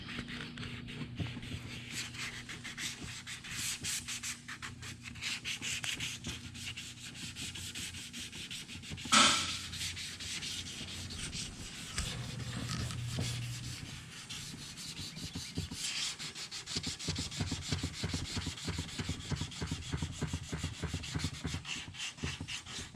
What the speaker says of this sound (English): we're just filing this down to get it nice and straight